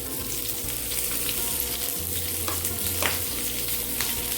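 Large-cut onions fry in hot oil for homemade pizza sauce, making a continuous close sizzle with occasional stirring scrapes and a low hum underneath, and no one speaks.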